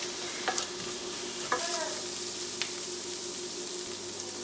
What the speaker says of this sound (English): put your ground pork in a cold pan and put it over high heat